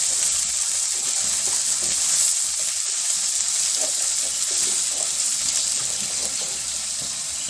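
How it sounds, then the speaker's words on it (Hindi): Onions frying lightly in a pan for a potato dish, a steady close sizzle with faint crackles and stirring, continuous and fairly loud, with no talking. "बस इसको हल्का सा बस 1 से 2 मिनट तक फ्राई करना है प्याज को"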